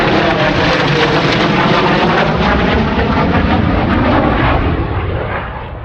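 A fixed-wing airplane roars close overhead, a loud steady engine drone filling the air for several seconds before starting to fade, heard outdoors on a hiking trail in the Scottish Highlands with no talk.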